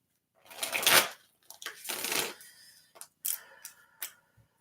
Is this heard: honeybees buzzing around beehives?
no